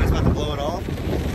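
Strong wind on a beach buffeting the microphone in a steady, heavy low roar with gusty rumble, loud and close throughout.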